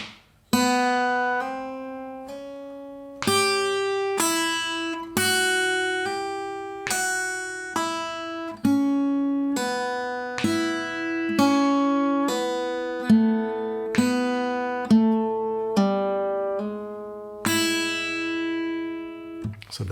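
Electric guitar slowly picking a double-time pentatonic turnaround lick in A, about a dozen distinct ringing single notes, some bent, played one by one at an unhurried pace and fading between attacks, with no talking.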